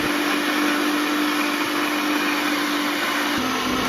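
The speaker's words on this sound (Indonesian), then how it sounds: "Blender bumbunya sampai halus." A kitchen blender grinds shallot and chili spice paste for home cooking with a loud, continuous motor whine and a steady buzzing roar. The tone stays close and unbroken, with a slight dip in pitch near the end.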